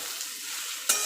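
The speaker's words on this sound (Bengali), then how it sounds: "দিয়ে ভালো করে বেগুনের সঙ্গে মিশিয়ে নেব।" Fried brinjal stirred with neem leaves in a pan, a soft steady oil sizzle with faint scraping, then a sharper, louder hiss and clatter near the end.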